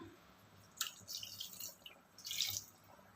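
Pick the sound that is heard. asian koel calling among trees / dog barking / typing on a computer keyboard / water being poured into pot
water being poured into pot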